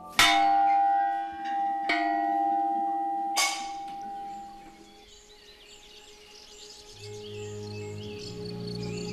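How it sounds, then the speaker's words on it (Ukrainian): Three loud strikes of a tower bell atop the eight-storey tower at Radomysl Castle ring out close and rich, each tone decaying slowly. Birds and insects chirp faintly outdoors as the ringing fades. "На вершині восьмиповерхової вежі розташовується баштовий дзвін."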